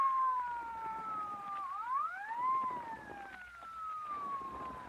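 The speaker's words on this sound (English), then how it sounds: "What chowderhead was stupid enough to use his siren?" A police patrol car siren wails in a sustained rising and falling tone, fairly loud and steady against city background noise, with no speech over it.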